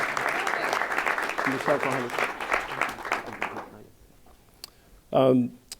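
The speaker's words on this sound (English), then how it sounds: "Please give a round of applause." An audience at the DC Convention Center business unveiling claps briskly for about four seconds, then the applause fades and a voice briefly speaks.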